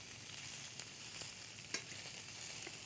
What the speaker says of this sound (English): just cook it long enough to brown it slightly and to get rid of some of the fat in it.